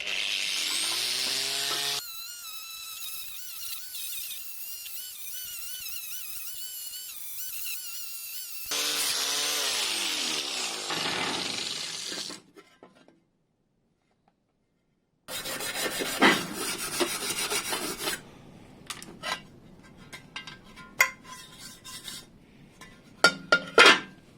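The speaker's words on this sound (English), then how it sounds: "And tidied it all up with a grinder." A grinder works over restored Triumph TR7 rear axle parts, giving a steady, loud rasping whine in long passes that break off, go quiet for a few seconds, then resume with rougher scraping and a few sharp knocks.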